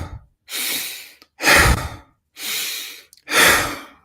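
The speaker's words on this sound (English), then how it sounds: "it's a bit exaggerated breathing. It's a forceful exhale" Four forceful, exaggerated breaths, each a long loud exhale or sigh lasting about half a second to a second, separated by short quiet gaps in an even rhythm, close and alone with no talk.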